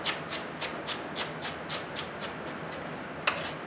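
Knife chopping celery into small pieces on a board, a rapid even series of about a dozen close, crisp cuts with a slightly louder final chop.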